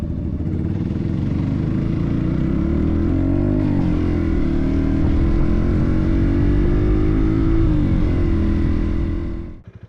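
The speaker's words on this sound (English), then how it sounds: "It really sounds like a 150." A Honda Rebel 250 motorcycle engine runs loud and close, a dense continuous drone that swells slightly in pitch mid-way before cutting off abruptly at the end.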